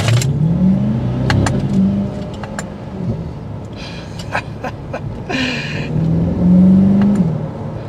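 A 2023 Chevrolet Corvette Stingray engine revs and accelerates up close in manual mode with its dual-clutch gearbox, its pitch climbing in surges between shifts, loud and throaty.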